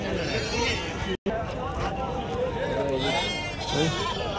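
Sheep bleat repeatedly at a busy weekly livestock market, several animals calling near and far amid constant crowd chatter and people talking.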